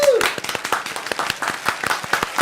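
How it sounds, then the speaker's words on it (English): Audience at a live podcast recording clapping in quick, uneven bursts, fairly close, with a voice briefly heard at the start and chatter mixed through the claps. "You know not what you clap for."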